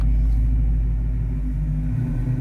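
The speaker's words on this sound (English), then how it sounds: "Oh, it's not. It's a 60s Mustang." A 1960s Ford Mustang drives past near a beach, a loud, low engine rumble swelling steadily throughout with no speech over it.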